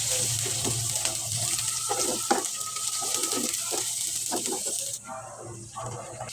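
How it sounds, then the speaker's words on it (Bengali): Chopped onions fry in oil in a pan, giving a close, steady sizzling hiss with soft stirring scrapes. The sizzle eases slightly near the end. "এখন একটা প্যানে পেঁয়াজ কুচিগুলি দিয়ে দিলাম।"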